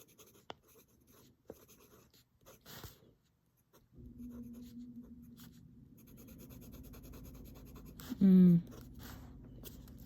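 A medium-nib fountain pen writing with Ferris Wheel Press ink gives soft, faint scratching strokes on paper, close and quiet, with brief pauses between strokes.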